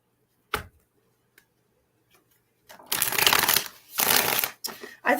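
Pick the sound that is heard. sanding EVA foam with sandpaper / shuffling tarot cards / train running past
shuffling tarot cards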